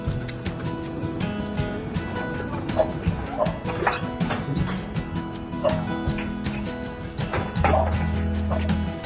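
A dog barks in short, repeated yaps over a busy, cluttered background of clatter and movement, with people talking nearby.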